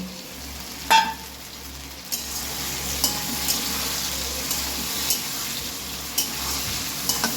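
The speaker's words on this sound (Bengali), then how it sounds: "ভেজে রাখা সোয়া চিকেন বল দিয়ে দিলাম।" Fried soya chicken balls added to a hot pan of chilli sauce, a steady sizzle and bubbling with occasional clinks and scrapes of a spatula against the pan, close and unbroken with no talk.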